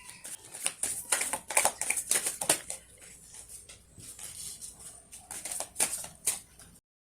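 Tarot cards shuffled by hand, a quick run of papery riffling bursts close up, pausing briefly then resuming, with no talk.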